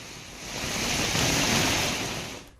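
Heavy rain pours down over a town, a broad steady roar of falling water that swells up and fades away again over a couple of seconds, with no voices over it.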